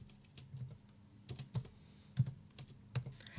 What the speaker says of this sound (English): So Luke is typing because he is a producer.